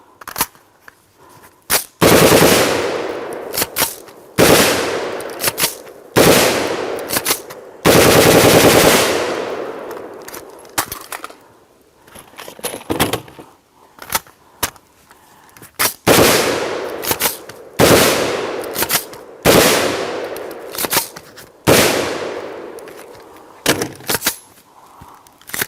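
An M16 rifle fires loud, sustained fully automatic bursts outdoors, several long rattling strings of shots separated by short pauses, with no talking.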